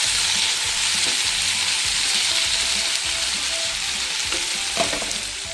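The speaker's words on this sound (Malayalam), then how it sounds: "കുറഞ്ഞ ഫ്ലെയിമിലിട്ട് ഒന്ന് ഇളക്കി യോജിപ്പിക്കുക" Pepper chicken stirred in a pan over a low flame, with a loud, continuous close sizzle and rhythmic scraping of the spoon through the pieces.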